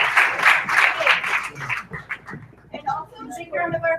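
Audience applause at a conference in Chicago, a dense burst of clapping that fades within a couple of seconds as voices take over and talk continues.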